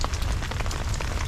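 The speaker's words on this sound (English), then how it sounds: "You can see all the rain coming off here." Steady rain pours onto a low-slope rolled roofing surface and runs off the edge, a dense close hiss of drops with no talking.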